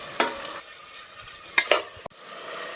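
Chopped large onions frying and being stirred in a pan for tomato rice, a steady sizzle broken by a few sharp scraping stirs and a brief clink, with no talking.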